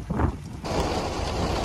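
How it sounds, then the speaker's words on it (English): Heavy rain during a storm chase pours as a steady dense roar, loud and continuous, with wind buffeting at the start before settling into an even downpour. "These are good rainfall rates."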